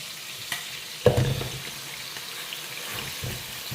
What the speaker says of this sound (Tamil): இந்த வெங்காயத்தையும் இதையும் போட்டு நல்லா வெங்காய வாசனை, பச்சை வாசனை போகிற வரைக்கும் நல்லா வதக்கிக்கலாம்